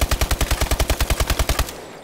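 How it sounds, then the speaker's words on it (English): Automatic gunfire from Call of Duty: Advanced Warfare rattles in one fast, even burst of about fifteen loud shots that stops abruptly. "Let me shoot this kid's body"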